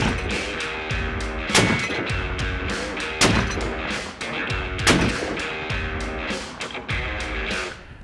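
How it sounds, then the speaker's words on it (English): Rifle shots through a muzzle-ported barrel, sharp loud close cracks repeating roughly every second or so, with dense ringing blast reverberation between them and no talk. "So I'll close the bolt on this and take our next shot here."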